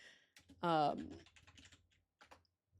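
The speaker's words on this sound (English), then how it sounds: "Excuse me, I'm just typing." Computer keyboard typing: sparse, soft key clicks in short irregular bursts, close and quiet, with a brief spoken interjection near the start.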